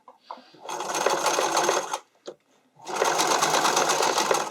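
Sewing machine running in two long bursts with a short pause between, stitching elastic with a zigzag stitch onto the raw edge of a keyhole neckline, loud and close.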